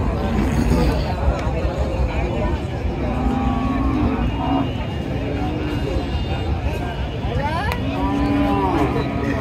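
Heifers moo repeatedly at a busy cattle market in North Bengal, several drawn-out calls rising over a constant babble of crowd voices.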